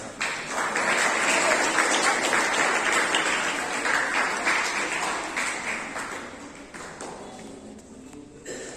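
Children clapping at a school prize distribution ceremony, a steady wash of many hands applauding that swells early then slowly tapers off toward the end, with a voice faintly underneath.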